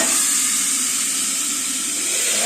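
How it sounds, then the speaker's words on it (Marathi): Hot phodni tempering hits buttermilk kadhi with a bright, steady sizzle and hiss, loud and close, running unbroken without talk. "आपली फोडणी तयार झाली त्याच्यामध्ये टाकून लगेच झाकून घ्यायचं"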